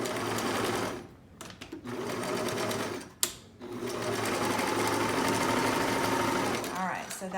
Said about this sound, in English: So then you just set it into your sewing machine, and I'm gonna come up to my mark.